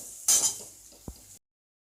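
Thinly sliced big onions sautéed in a pan for Tirunelveli-style mappillai sodhi. A burst of sizzle fades into low frying hiss, one dull knock of a spoon against the pan, then silence.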